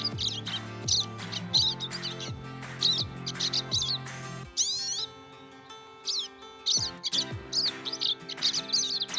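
Electronic bird chirps and tweets from an iOS alarm clock app repeat in short bursts, with a steady synthetic tone underneath, loud and close, pausing briefly midway before continuing.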